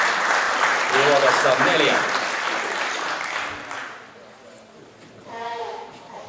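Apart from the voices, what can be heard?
applause at a rally prize-giving ceremony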